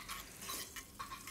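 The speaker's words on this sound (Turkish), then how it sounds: "Uygun bir tencerenin içine 2 yemek kaşığı tereyağı, 4 yemek kaşığı kadar sıvı yağ" Butter and vegetable oil going into a cooking pot while making Diyarbakır-style meat pilaf, giving soft stirring and faint sizzling scrapes with a few brief metallic clinks, quiet and close with no talking.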